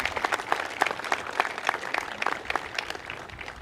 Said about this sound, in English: I think you should clap on that